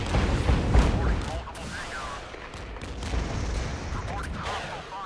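Artillery and gunfire in the strategy video game Regiments, a dense rumbling barrage of booms and shots that runs continuously, with a voice talking over the battle noise.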